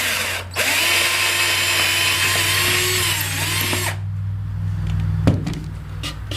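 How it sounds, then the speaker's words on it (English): A power drill bores a slightly oversized hole for a screw in a workshop setting, a steady loud whine with a rising pitch sweep lasting about three and a half seconds, then stopping, followed by quieter handling noise and a brief knock. "So we'll drill a hole."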